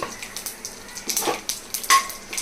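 Biryani spices and meal maker (soya chunks) frying in hot oil in a pan, with soft crackling and brief scraping or clinking stirs at close range, no voices.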